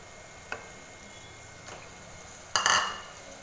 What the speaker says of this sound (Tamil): இந்த ஸ்டேஜில் நம்ம இது கூட பார்த்திங்கன்னா கழுவி வச்சுருக்கிறேன் மட்டன் கறியை இதில் சேர்த்துக்கலாம்